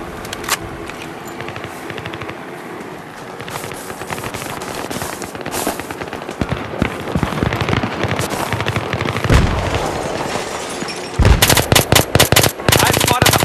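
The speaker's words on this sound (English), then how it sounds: "I spotted a hostile machine gunner in your area." Machine gun fire in a Battlefield 3 team deathmatch on Sharqi Peninsula, rapid bursts and scattered shots that build into heavy, close, rattling volleys near the end, with game radio chatter underneath.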